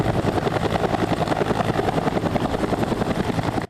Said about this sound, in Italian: L'elicottero del 4° Reggimento Aves Alter di Bolzano è atterrato a Campomarzo